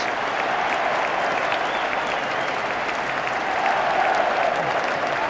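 A stadium crowd at the 1996 FA Cup Final between Manchester United and Liverpool applauds the cup presentation, a dense, continuous roar of clapping from a large distant crowd, steady throughout and swelling slightly near the end.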